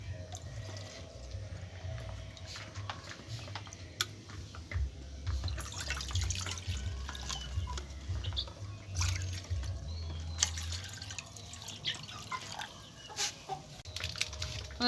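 Two bowlfuls of water are poured into a bowl for making Rasna ice cream, a faint, quiet splashing trickle with hens clucking softly in the background.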